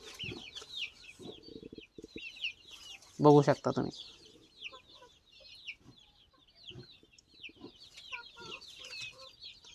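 A brooding hen gives a short burst of clucks amid steady chirping of small birds, with a voice speaking briefly nearby.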